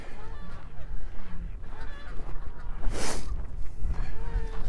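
Geese honk repeatedly at a snowy lakeside, several calls scattered across the scene at moderate distance, mixed with outdoor ambience and a brief noisy burst partway through.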